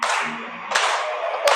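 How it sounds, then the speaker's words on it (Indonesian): A class of students clapping hands during an Indonesian Hindu religious education lesson: a couple of bursts of group clapping over a faint hum of the room. "kedua tangannya ditepuk"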